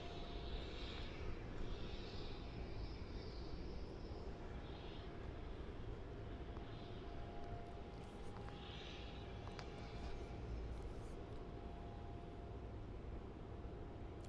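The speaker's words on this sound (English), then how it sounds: "Let's get a close-up now of this Thai 350 coming in now from Bangkok. Just about to touch down on runway" A Thai Airways Airbus A350 arriving from Bangkok touches down on runway 16, heard as a steady, broad engine roar and rushing noise. It holds at a fairly even level throughout, with faint higher whines drifting above the wash.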